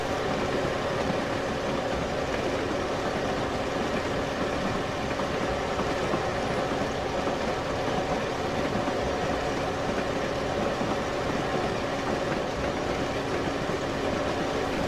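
A Class 101 diesel train in Train Simulator 2019 rumbles along the rails at about 59 mph on the Norwich to Yarmouth line, a steady, unbroken drone with faint rhythmic clatter, constant in loudness and without voices.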